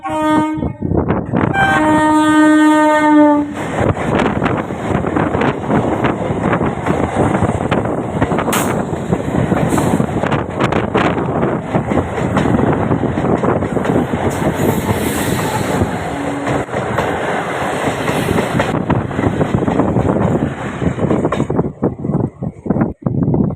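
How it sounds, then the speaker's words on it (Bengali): A train horn blasts several times, then a loud close rumble and rhythmic clatter of rail cars rolling into Tribeni station, with a brief horn later before it quiets. "গাড়িটা ঢুকে গেছে ত্রিবেণী স্টেশনে গাড়িটা ঢুকছে"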